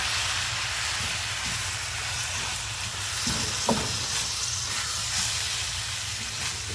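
Dressing is stirred into food in a hot pan, giving a continuous close sizzle and hiss with a few soft scraping knocks from the stirring.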